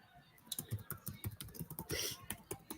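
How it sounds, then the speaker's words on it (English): Quick, irregular keyboard typing, a run of clicky keystrokes close by, with faint background noise between taps. "Typing it in."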